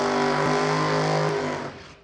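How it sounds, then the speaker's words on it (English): A drag racing car does a loud burnout at an NHRA divisional race, a sustained heavy engine drone with a low throbbing tone that holds steady and then begins to fade. "There's loud burnouts coming."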